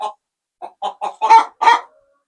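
A hen clucking inside a chicken coop, a series of close, loud clucks, a few short ones then louder drawn-out squawks, with silence between.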